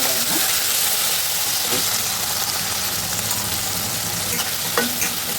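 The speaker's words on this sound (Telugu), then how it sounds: "రెండు ఉల్లిపాయలు దోరగా వేగిపోయిన తర్వాత టమాటా వేసేయండి" Tomatoes are added to browned onions frying in a pan for a country chicken curry, giving a steady, loud, close sizzle with occasional soft clicks of stirring throughout.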